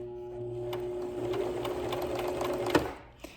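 Sewing machine stitching a fabric face mask, a steady close motor whir with rapid needle rhythm running throughout, ending in a sharp click and brief slowdown.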